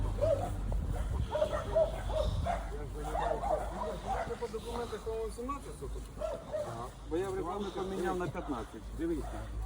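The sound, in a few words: dogs barking next door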